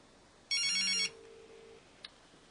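A ringback tone sounds on an HTC Magic smartphone after a call is placed: a single loud electronic ring burst of about half a second, then a lower sustained tone, with a brief click afterward and no talk.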